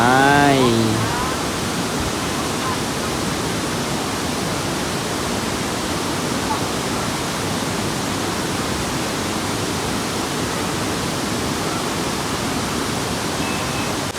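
Tad waterfall, a cold-water falls, rushes in a loud, steady broadband roar throughout, with a brief voice at the very start.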